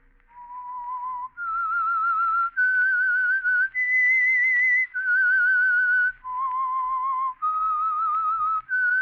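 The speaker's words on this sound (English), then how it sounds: "That whistle is your signal for the Signal Oil Program," The theme whistle of the 1947 Signal Oil radio drama The Whistler: a lone, clear melodic whistle of sustained notes stepping up and down, close and loud, with no talking over it.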